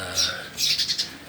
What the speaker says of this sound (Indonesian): itu suara perkutut saya